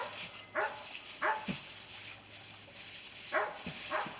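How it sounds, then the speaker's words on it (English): Several dogs bark outdoors at moderate distance, a few sharp barks spaced out with pauses, over a steady low background hum; no talk. "as usual, you hear my dogs barking"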